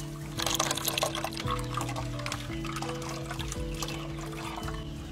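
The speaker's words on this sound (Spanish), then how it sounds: "El licuado va a un colador." Blended plantain peel liquid pours through a strainer, a continuous trickling, splashing flow with a steady low hum underneath, close and moderately quiet.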